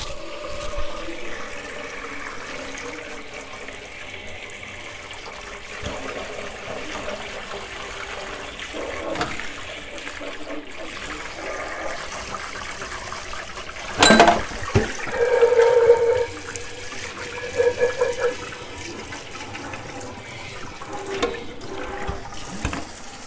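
Liquid drains from cooked ground beef in a kitchen, a low steady trickle that swells into a louder gush and splatter midway before settling back to a quiet pour, with no talking.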